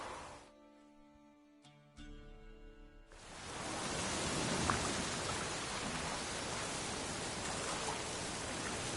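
Heavy rain in The Witcher 3 comes on after a few seconds of quiet tonal music and settles into a dense, loud, continuous hiss with no voices over it.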